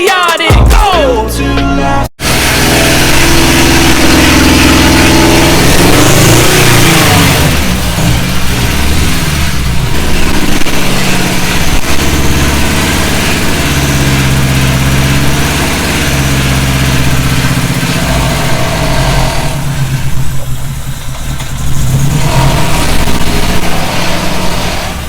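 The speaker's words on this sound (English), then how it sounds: "rev it up a little bit" Honda EG car engine running close by, a steady loud mechanical drone with shifting tones as the revs rise and fall, over background music.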